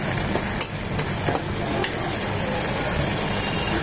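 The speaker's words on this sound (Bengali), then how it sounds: "মশলা কষানোর সাথে সাথে টমেটোটাও কষবে এবং গলে যাবে" Tomato with spices frying in a pan while brain curry is being made, giving a steady, even sizzle throughout with a few faint clinks of stirring, and no talk.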